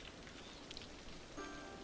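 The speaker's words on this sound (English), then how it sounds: "It's been raining for a while now." Rain falls in the city-building video game Cities Skylines, a faint, steady hiss of drizzle with a few soft, scattered patters and no voices.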